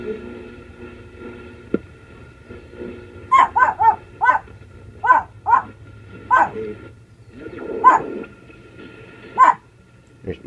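A dog barks in a string of sharp, evenly spaced barks over a Zenith 7-S-633 shortwave radio, carried through a steady hiss and hum of radio static.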